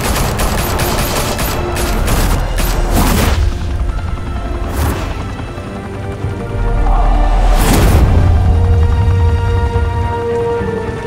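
Gunfire in Batman: The Telltale Series erupts as a rapid volley of loud shots early on, then scattered heavy bangs around the middle and a big blast near the end, with low rumbling between.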